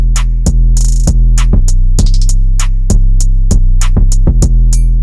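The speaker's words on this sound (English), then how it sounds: "these are all really high quality, royalty-free 808 samples" Deep 808 bass samples from a Cymatics 808 bundle, a loud series of booming sub-bass notes with sharp clicky attacks and hi-hat-like ticks, struck in a steady rhythm roughly every half second with sustained low tails.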